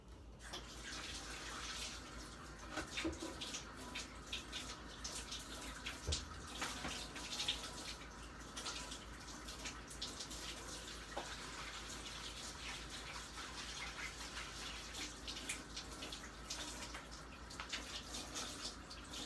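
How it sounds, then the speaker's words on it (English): In a home kitchen, hands are washed under a running tap, a steady faint stream of water that continues without pause and with no talking. "Wash the hands real quick."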